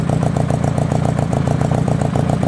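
A 1983 Honda Goldwing converted to a cafe-style motorcycle runs steadily at idle, its engine giving a close, even, rhythmic thrum with regular pulsing beats throughout and no voices over it.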